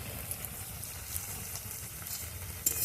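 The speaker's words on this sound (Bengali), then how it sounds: "মশলাটা ভালো করে কষবো" Ground masala spices sizzling steadily in oil in a pan while being slow-fried for a vegetarian brinjal curry, a soft continuous crackling hiss with no voices.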